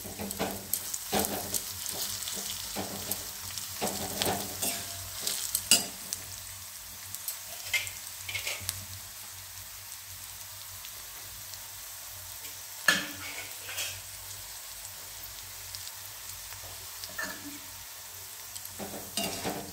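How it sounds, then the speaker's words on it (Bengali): Garlic, nigella seeds, and dried and green chilies fry in a pan with a soft continuous sizzle, broken by scattered scraping and clinking as a utensil stirs, close and fairly quiet. "রসুন, কালো জিরে, শুকনো লঙ্কা এবং কাঁচা লঙ্কা দিয়ে ভাজাটা হয়ে গেল"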